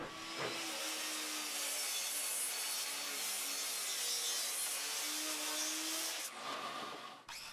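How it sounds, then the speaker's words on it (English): A miter saw cuts a long live edge wood slab to length, giving a sustained whining, rasping cut with a sharp onset and a drop-off near the end, heard alone at moderate level. "I cut it to length at the miter saw."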